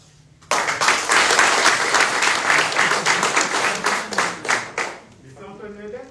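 Audience at a port sommelier competition breaking into loud sustained applause that begins abruptly, swells, then fades after about five seconds as a voice comes in.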